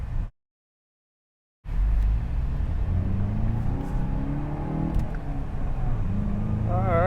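A 2022 VW GTI hot hatchback driving on a twisty road, its engine a steady, close rumble with rising and falling revs after a brief silence at the start, with no talk over it.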